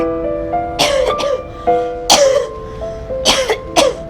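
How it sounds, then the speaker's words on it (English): Several harsh, raspy coughs in separate bursts over a steady background tone, some doubled, close and fairly loud. "That cough doesn't sound good."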